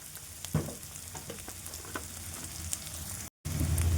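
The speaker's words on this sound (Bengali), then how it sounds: "পেঁয়াজটা দেওয়ার পর লাল লাল করে ভেজে নেবো" Onions fry in hot oil for chira cutlets, giving a steady crackling sizzle with small pops. The sound runs continuously apart from a brief cut near the end, with no talking.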